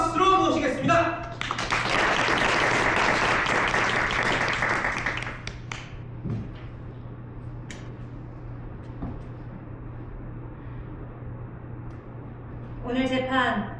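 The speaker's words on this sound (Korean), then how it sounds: "송원달 판사님을 세상에서 가장 뜨거운 박수로 모시겠습니다" Audience applause welcoming a judge at a staged courtroom reading contest, a dense burst of clapping lasting about four seconds between stretches of a voice speaking, then quiet room tone with faint stray sounds.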